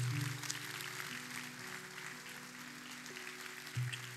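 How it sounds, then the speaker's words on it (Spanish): Congregation applause during a church service, a steady wash of clapping with low sustained keyboard or organ tones underneath, moderate and continuous throughout. "Dale un fuerte aplauso al Señor"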